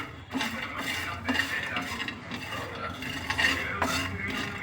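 Spicy chilli-coated peanuts stirred and fried in a pan over a low flame, a spoon scraping steadily in repeated strokes with a faint sizzle underneath, close and moderately loud.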